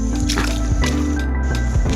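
Irrigation water pours into a wheat field with a continuous wet sloshing and gurgling, squelchy splashes recurring through the two seconds over a low steady rumble, fairly close and loud, with no talk.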